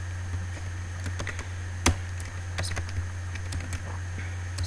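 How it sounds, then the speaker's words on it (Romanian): Rapid keyboard typing with irregular clicks and a few sharper keystrokes, close and moderately loud over a steady electrical hum, while someone plays a Minecraft-style parkour game; no speech. "Cred că se aude cum tastez, nu?"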